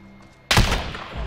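A single sharp, close gunshot in Call of Duty: Modern Warfare 2v2 Alpha, a loud sudden crack after a quiet moment that rings out into a decaying tail.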